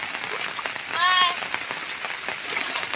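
Heavy rain falls steadily over flooded farm fields, a dense, even hiss that holds for the whole stretch, with a brief chirpy squeak partway through.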